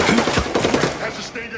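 Rapid automatic gunfire in Ghost Recon Breakpoint, a short burst of sharp close shots in quick succession over game ambience.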